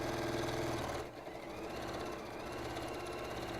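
A home sewing machine runs steadily while stitching quilt pieces, its motor a continuous close mechanical hum with a brief dip about a second in, then resuming at an even pace.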